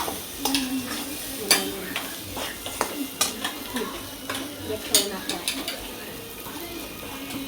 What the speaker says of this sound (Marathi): तर आपलं चालू आहे खेकडा फ्राय.